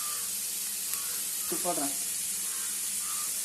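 Tomatoes frying in a pan for bread masala give a steady, even sizzle and hiss throughout, with a brief faint scrape or stir partway through.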